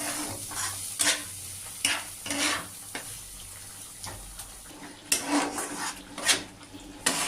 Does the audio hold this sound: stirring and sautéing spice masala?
yes